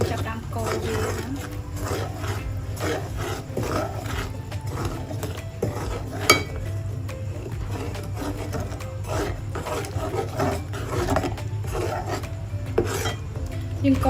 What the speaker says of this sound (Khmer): យើងកូរវាឲ្យលាយស្ករណា